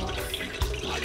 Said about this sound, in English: I'm going to wash my salt mackerel with some vinegar